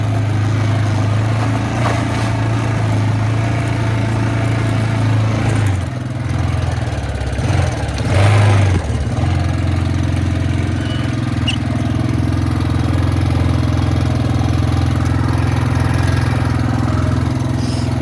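A Yamaha Grizzly ATV, left sitting for a long time, runs and idles loudly up close with a steady engine drone, one brief dip and rev in the middle, then settles back to a rough, even idle.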